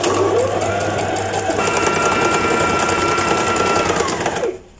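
Brother GS2700 domestic sewing machine running a decorative stitch: a loud, close, steady mechanical whirr with rapid rhythmic needle ticking, its pitch shifting partway, then stopping abruptly at the end, no voices.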